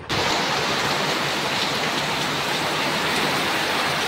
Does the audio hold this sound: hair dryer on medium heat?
no